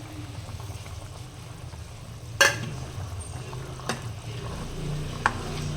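Roasted pepper and cumin spice powder being stirred into a simmering South Indian kuzhambu, a low bubbling simmer with a few sharp clinks of a spoon against the pot, no talk.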